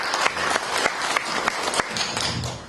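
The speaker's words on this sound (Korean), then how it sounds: "박수를 좀 세게 해주시면" Audience applause at a 2019 book launch event at the Press Center in Gwanghwamun, Seoul: a steady patter of many hands clapping close by, with a few sharper individual claps.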